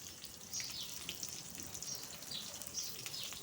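Brinjal pieces fry in a pan with a soft, steady sizzle and faint crackles running throughout, close but quiet, with no talking.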